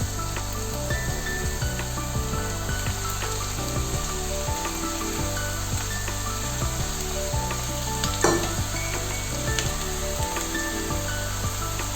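Capsicum stir-fried with chicken in a pan, a dense steady sizzle with a constant background hum, punctuated by frequent spatula scrapes and clacks, one louder scrape near the end.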